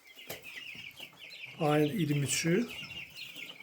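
One-month-old purebred German Australorp chicks cluck and cheep in a short burst near the middle, loud and close, with a voice speaking briefly under the birds.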